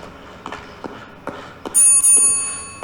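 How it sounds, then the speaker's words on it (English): A bell rings inside Bendy and the Dark Revival, a bright sustained metallic tone with shimmering overtones that swells loudly and slowly decays, preceded by a few scattered knocks and footfall-like taps in a creepy interior. "Oh my gosh, the bell works."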